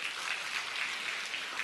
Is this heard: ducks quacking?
no